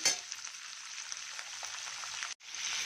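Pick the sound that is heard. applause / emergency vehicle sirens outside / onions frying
onions frying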